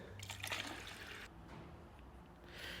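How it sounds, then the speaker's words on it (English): Coolant gurgles into a car's cooling system reservoir, a faint watery trickle and bubbling that fades and then returns more strongly. "In the reservoir here, I can see that it's gurgling and taking more water"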